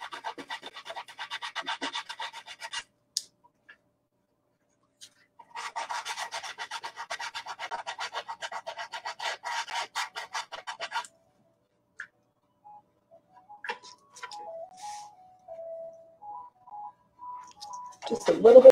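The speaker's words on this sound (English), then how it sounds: "I'm just rubbing it just enough to level it out so that it's totally flush" Bursts of dry, rasping back-and-forth rubbing, like sandpaper worked over wood by hand, separated by silent pauses and a few light taps.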